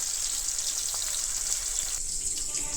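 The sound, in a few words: Katla fish frying in a pan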